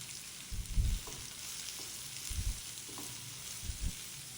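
Onion and curry leaves fry in a pan with a soft, steady sizzle, broken by three short, low bumps of stirring spaced a second or so apart.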